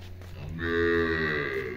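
A Jersey-Sahiwal cross cow moos loudly and close by, one long drawn-out low call that swells and holds before tapering off.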